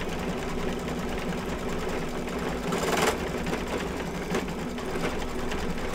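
A home embroidery machine stitching an in-the-hoop design, giving a steady rapid mechanical whirring and clatter that runs continuously at an even level, close by, with a brief louder knock partway through and no talking.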